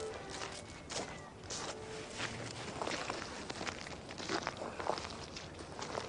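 Footsteps walking across a house roof, a steady run of soft, fairly quiet steps with scuffs, heard alone over a low background.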